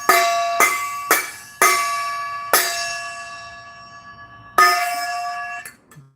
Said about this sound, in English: here's my new bell.